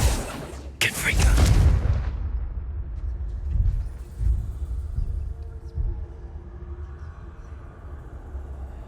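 A Confringo blasting curse goes off in a Harry Potter video game, a sharp burst followed by a heavy rumbling boom that fades into low crackling debris and softer thuds.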